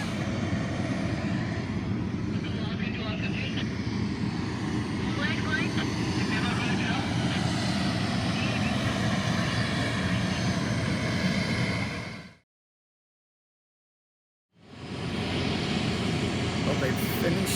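A resupply plane's engines drone steadily and loudly at the Lukla airstrip in Nepal, with voices underneath, before a brief cut to silence and then the engine roar returning.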